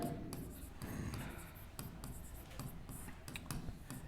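Pen scratching across paper while a maths problem is worked out, a steady run of close, soft strokes with short pauses and no talking.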